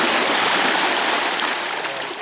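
Hot spring water flowing out at the shore on Camiguin Island, a loud, close, continuous rushing hiss of moving water with no pauses.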